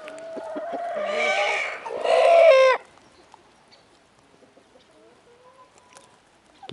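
Hens feeding outdoors, with a couple of close, loud clucking and squawking calls in the first few seconds, then quieter scattered clucks and pecking.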